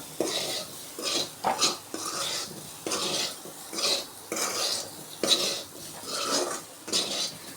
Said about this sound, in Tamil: மறுபடியும் கரண்டி வச்சு நல்லா மிக்ஸ் பண்ணி விட்டுக்கலாம்